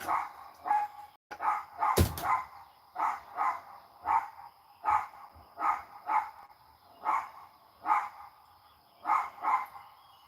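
A pet dog named Marley barks at the neighbors from a back porch, a long run of evenly spaced single woofs at moderate distance, with one sharper bang near the start.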